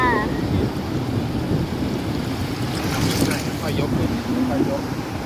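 Strong wind out on open water, a loud, unbroken rush of gusts battering the microphone along with the wash of waves, while a voice comes through briefly over the roar.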